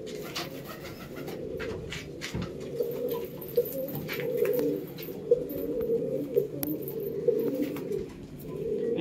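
A pair of Doyaj breeding pigeons coos steadily at close range, soft rolling calls repeating over a low murmur, with a few faint clicks and rustles in the background.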